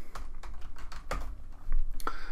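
Quiet clicking of a computer keyboard as a few short words are typed into a document, with soft, uneven keystrokes and brief pauses between bursts.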